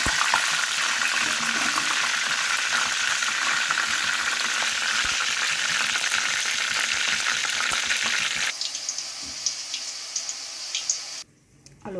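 A batch of mushroom 65 deep-fries in hot oil with a loud, steady sizzle held for several seconds. The sizzle then drops to a quieter, patchier crackle before cutting off near the end.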